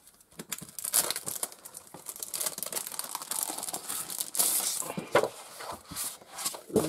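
Paper packaging crinkles and tears close up as a craft-store haul item is unwrapped, a busy stretch of irregular rustles and crackles with no one talking.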